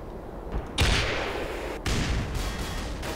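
A heavy blast bursts out in the Black Mesa video game, followed by a second boom and a long, roaring rumble of debris and noise that fills the scene without any voices.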